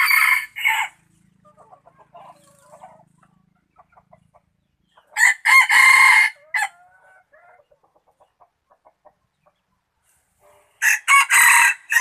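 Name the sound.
wild jungle fowl roosters crowing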